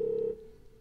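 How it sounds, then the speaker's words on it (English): Phone-call ringtone voice on a Yamaha DGX-230 portable keyboard, a single steady electronic tone held about a third of a second before dropping to a faint fading tail, clean and alone. "sound number 463, ringtone, or the phone call tone"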